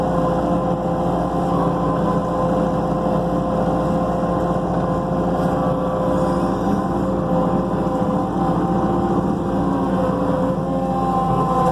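A construction excavator engine drones loudly and steadily throughout during basement backfilling, a constant low rumble with no clear rise in pitch and no voices.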